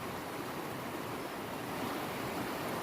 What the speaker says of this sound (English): I'm just gonna pan it back really slow because I am not good with this Garrett pan